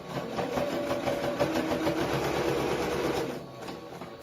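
A sewing machine stitches the outside of a witch costume with a continuous fast, buzzing whir that runs for about three seconds and then trails off.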